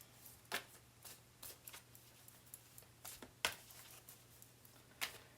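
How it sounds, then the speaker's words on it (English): A tarot card deck is shuffled by hand, giving soft, faint riffles and flicks at an irregular rhythm, with no talking. "Usually I'll get the signal to stop shuffling when they're done with a deck."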